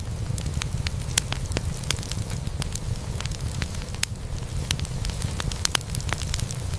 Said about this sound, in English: Now we let the smoke and fire do the work.